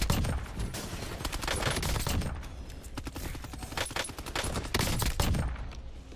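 Suppressed SMG gunfire in Call of Duty Warzone, firing in dense continuous bursts with short gaps, loud and close, with no talk over it.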